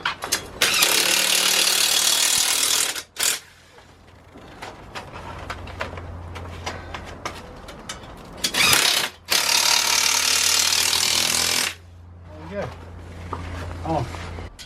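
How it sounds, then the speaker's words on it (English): A screw being driven into wall plugs on a brick extension build, with long loud bursts of a close power driver whirring, pauses between runs and faint ratcheting clicks, alongside someone talking. "I'm feeding the screw through, and this will get us ready for tightening up."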